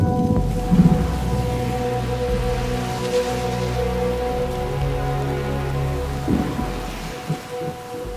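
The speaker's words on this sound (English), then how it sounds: "It's been raining pretty much the whole time." Steady rain falling throughout a stormy spell, with a constant wash of drops on surfaces and low rumbling underneath, fairly loud and continuous with no voices.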